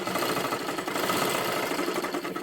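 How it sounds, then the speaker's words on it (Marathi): A sewing machine stitches tucks into a blouse, a close, fast, continuous mechanical whir and rattle that runs steadily through the whole short stretch with no talking. "इथे बरोबर आपल्याला इथे शिलाई करत घ्यायचं आहे"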